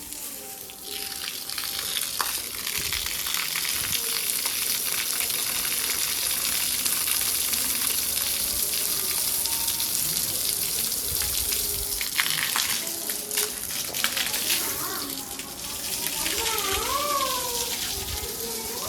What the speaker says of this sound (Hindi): रजा के पानी लगाओ इन ईंटों को,